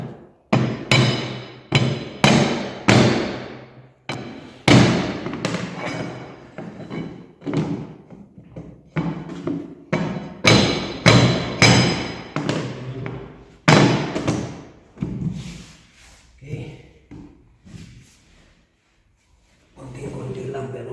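A hammer knocks vinyl floor planks into place in a rapid series of sharp, close thuds and taps, pausing now and then before the blows resume, with no talking over them.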